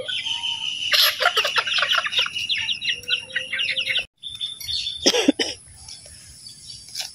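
Free-range desi chickens kept in a small yard cluck and squawk in scattered bursts nearby, with a sharp cough-like call and a brief quiet break partway through.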